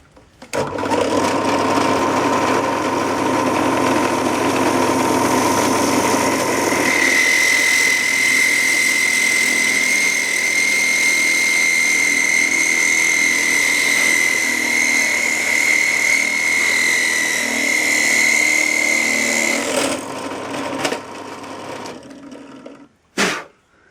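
Drill press boring a hole in a horn nock for a yew English longbow, the motor whining steadily with a sustained high tone for most of the run, then winding down near the end; no talking.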